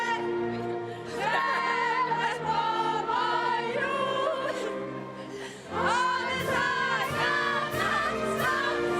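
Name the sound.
crowd cheering in arena at women's handball final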